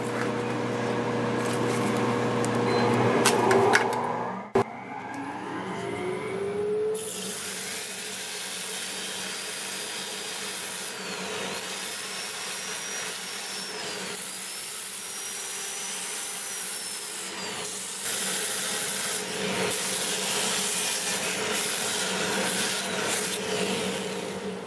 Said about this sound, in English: I'll show you how I polish this out with abrasive paste.